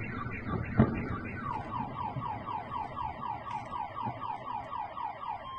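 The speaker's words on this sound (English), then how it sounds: "Oh, they have house alarms in Russia?" A rapid, repeating electronic alarm whoops steadily in a fast sweeping pattern, moderately distant, over low background rumble.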